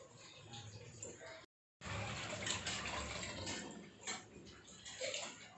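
Tap water runs steadily and splashes as removable fridge parts are rinsed clean, close by, cut by a brief silent break, with a voice heard faintly over the flow.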